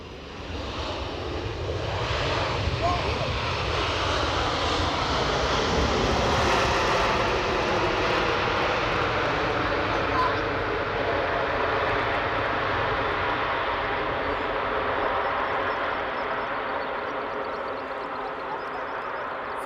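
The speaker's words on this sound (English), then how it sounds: "for sheer noise, I'm going to go plane of the day for the Boeing 767." A Delta Boeing 767 jet roars past at Edinburgh Airport, its engine noise swelling loud and broad, then fading slowly as it moves away, with wind in the background and faint voices.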